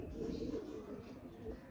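Pigeons cooing at a kabootar bazi loft, a soft steady murmur of low coos running throughout with faint background noise.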